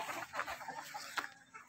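Soft clucking from backyard chickens of mixed breeds, a few short murmured clucks in quick succession, faint and close with light background noise.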